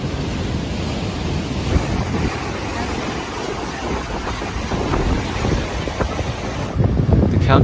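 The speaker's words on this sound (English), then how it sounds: "waves reaching up to 20 feet pummeled the structure" Large storm-surge ocean waves up to 20 feet pummel a beachfront structure in Santa Cruz County, a constant loud roar of surf mixed with heavy wind buffeting the microphone, with a stronger surge near the end.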